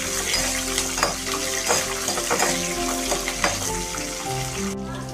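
Green and dried red chillies fry in hot oil in a home kitchen pan, a steady close sizzle with a few stirring scrapes and clinks throughout, no talking.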